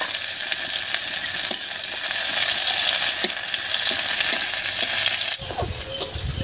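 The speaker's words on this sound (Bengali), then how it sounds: "এবার এর মধ্যে দেব সামান্য একটু পেঁয়াজ কুচি।" Chopped onion hisses in hot oil with whole cumin seeds and bay leaf, a loud, continuous close-up sizzle with occasional utensil clinks and a stirring scrape near the end.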